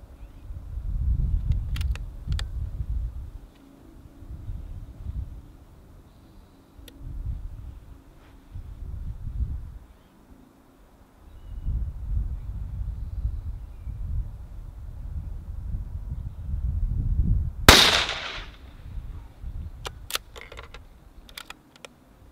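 A single sharp crack from a Remington 591 rifle in 5mm rimfire rings out once outdoors, late in a long stretch of wind and low rumble, followed by a few faint clicks of the action.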